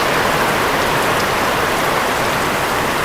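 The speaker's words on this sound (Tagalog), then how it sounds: "bigla pong lumakas ang ulan." Heavy rain pours down steadily and loudly, a dense, unbroken hiss of drops drumming close by with no voices.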